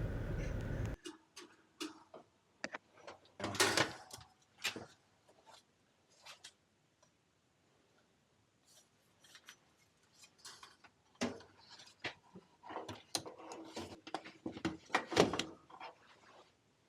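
A heat kit slides into an air handler in scattered metallic scrapes, clunks and clicks, close and intermittent, separated by quiet gaps.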